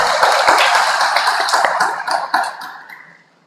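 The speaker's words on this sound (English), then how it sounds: "Please once again give big applause to Professor Harumaat." Audience applause for a professor at a One Health guest lecture fills the hall, a dense, loud clatter of many hands that gradually thins and fades out near the end.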